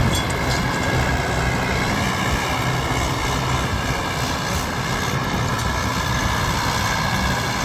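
A modified Mahindra tractor drives in second low gear, its engine giving a loud, steady, unbroken rumble with no voices.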